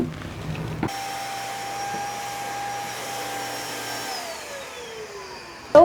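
An N20 steam cleaner runs in a steady, close hiss with a faint whine for about five seconds, starting and stopping with sharp clicks.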